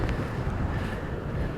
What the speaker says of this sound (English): It's still very windy, as you can hear.